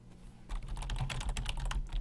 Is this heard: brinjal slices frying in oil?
no